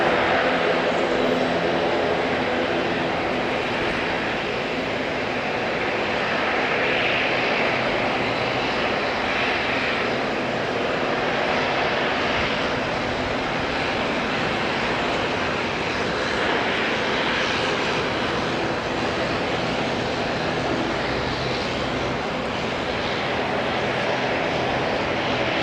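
A passenger aircraft arriving at Auckland International Airport from Dunedin gives a continuous engine roar that holds steady at moderate level throughout, heard alone without talk.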